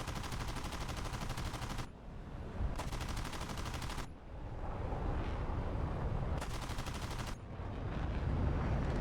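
Bursts of automatic gunfire from a player's guns in War Thunder, three long sustained volleys separated by short pauses, with rumbling battle noise filling the gaps, moderately loud and close with no speech.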